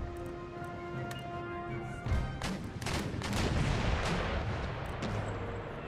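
Booming ship cannon broadsides in Empire: Total War, a dense rolling series of heavy shots that swells into a continuous roar after the first couple of seconds, loud and sustained with no talking.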